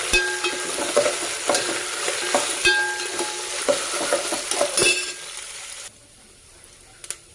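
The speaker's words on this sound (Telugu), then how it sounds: "పోపు వేసానండి" Tempering spices fry in hot oil for a coriander tomato chutney: curry leaves, dried red chilies, urad dal, cumin and garlic. A bright crackling sizzle with stirring clinks is heard, then it drops to near quiet.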